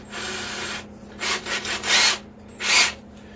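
A screw gun whirs into wood in several short, close bursts, the last few louder and separated by brief pauses.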